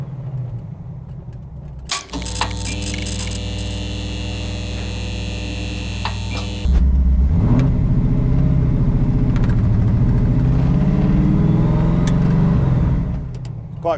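A GT40 Tornado car engine holds a loud, steady harmonic drone, then drops into a deeper, rougher rumble as the car pulls away and keeps driving.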